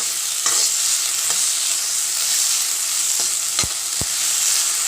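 Spices frying in oil with onion, ginger, garlic, green chillies and bay leaf for homemade samosa filling, a steady close sizzle with a few sharp stirring clinks of the spoon against the pan.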